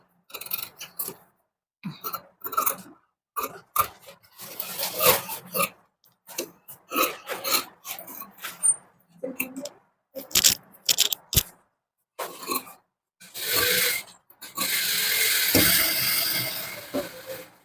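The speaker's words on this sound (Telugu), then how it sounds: "ఇప్పుడు మనం కటింగ్ చేసేద్దాం." Fabric being cut with tailoring scissors for a pot neck blouse, a run of short crisp snips and scrapes in uneven bursts, close by, with longer rustling passes near the end.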